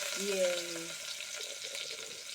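Tomatoes, garlic, chillies and crushed peanut powder fry in a pan. A loud sizzle starts the clip with a brief tonal clink, then settles into a steady hiss.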